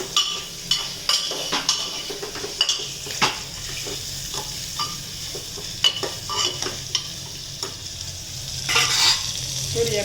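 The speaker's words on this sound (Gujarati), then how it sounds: "ને હવે મમ્મી એમાં નાખી દે છે તુરિયા. હવે આપણે એને એકદમ હલાવી નાખશું." Ridge gourd being stirred into ginger-garlic-chili paste in a hot pan, with steady frying sizzle and repeated scrapes and clinks of a spoon against the metal throughout.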